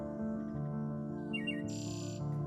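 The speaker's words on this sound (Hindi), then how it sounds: "टीनू चिड़िया का बच्चा घोंसले में बैठा बुरी तरह से रो रहा था" Baby bird crying in its nest, shrill chirps and squawks rising over a steady musical background and layered with a brighter high burst late on.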